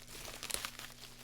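Plastic packaging crinkling and crunching as a package of coloring pencils is unwrapped, a quiet, close run of rustles with one sharper tearing crackle midway.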